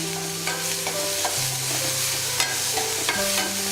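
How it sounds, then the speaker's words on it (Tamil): Onions sauté in a pan with curry leaves and salt for ragi dosa, keeping up an even, close sizzle with scraping stirs throughout and no voices. "உப்பும் எல்லாம் சேர்த்து நல்லா வதக்குங்க"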